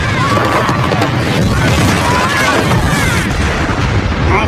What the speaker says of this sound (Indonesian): Lalu ketika sasaran sudah terkonfirmasi, bom demi bom pun dijatuhkan.